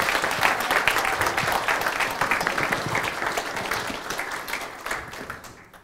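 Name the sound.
audience applause welcoming a speaker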